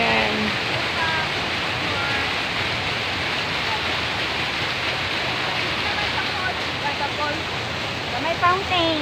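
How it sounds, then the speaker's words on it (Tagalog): A water fountain in Arroceros Forest Park, Manila, sends up a steady, dense splashing rush close by, with people talking over it. "May fountain."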